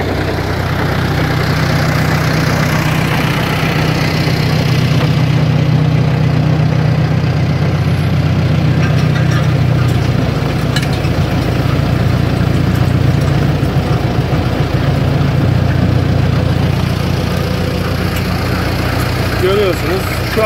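A Massey Ferguson 3085 tractor idles with a steady low rumble while the rear rototiller spins freely in empty soil, a continuous loud drone with no talk over it.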